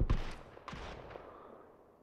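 An SLR rifle fires in a video game with a few heavy shots spaced apart, each trailing off into echo, the first one loudest.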